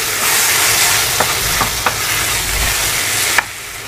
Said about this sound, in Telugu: ఇప్పుడు కట్ చేసి పెట్టిన టమాటాలు ఇందులో వేసేసుకుందామండి